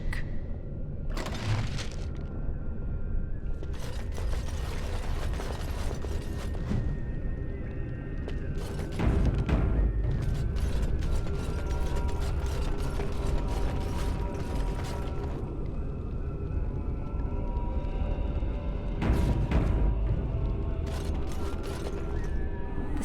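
In Dragon Age: Origins, a hidden mechanism opens a passage with loud grinding gears, repeated ratcheting clicks and creaks, and a few heavy booming thuds, all running continuously over more than twenty seconds.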